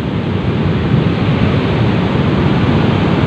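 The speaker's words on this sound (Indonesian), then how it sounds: "Gede banget ombaknya itu guys." Big ocean waves crashing at Karapyak beach in Pangandaran, West Java, a loud, dense roar of surf with heavy low rumble, continuous and close without any speech.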